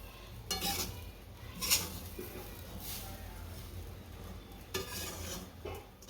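A spoon scrapes and stirs roasted coconut and sugar in a pan on low heat, giving intermittent rasping strokes and a soft sizzle, moderately close, with a few metallic knocks against the pan.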